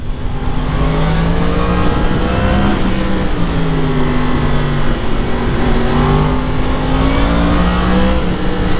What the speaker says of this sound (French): c'est vrai que le 4 cylindres crossplane comme ça, c'est vraiment un très joli son